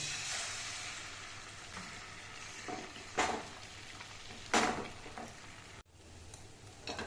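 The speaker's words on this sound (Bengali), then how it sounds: "ডিমটাকে একটু ঝুরি ভাজা করে নেব।" Soft sizzling as egg scrambles in a frying pan with a few drops of oil, a few louder scraping stirs, steady and close, no talking.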